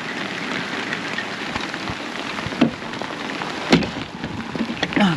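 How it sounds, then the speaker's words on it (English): Heavy rain pours down hard and steadily just outside an open doorway, a loud, dense hiss with a few sharper splashing thumps. "it's raining so hard."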